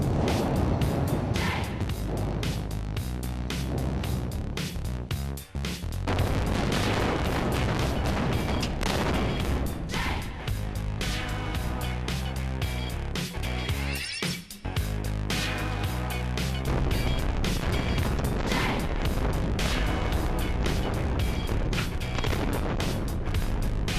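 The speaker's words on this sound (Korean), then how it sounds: "터널 안쪽에서 폭발음이 들려온다." Dense, sustained roaring blasts and rumbling bursts from explosives detonated inside an underground subway tunnel under construction fill the whole stretch, loud and continuous, with a couple of brief dips.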